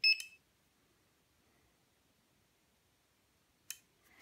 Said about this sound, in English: You get a beep and the relay and then the light.